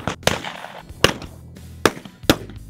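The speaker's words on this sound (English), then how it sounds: "middle and high schoolers in Oskaloosa have been honing their shotgun marksmanship under the watchful eyes of Ryan's dad, Larry" Four sharp shotgun reports fired at orange clay targets on an outdoor range by middle and high school shooters, spaced unevenly and fairly close, each with a brief decaying tail over quiet background.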